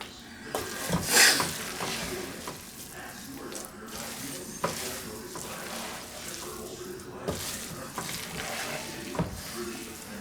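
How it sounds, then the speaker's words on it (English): A spoon stirring bean rice in a pot gives soft scraping and wet squishing strokes with a light sizzle underneath, quiet and close, while someone talks over it. "As soon as I get done stirring this, it will be ready."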